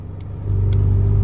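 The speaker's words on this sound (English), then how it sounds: "Naturally aspirated V8 Ferrari engines." A naturally aspirated Ferrari V8 engine with open exhaust valves idles and then swells into a loud, deep rev, a steady throaty drone close up.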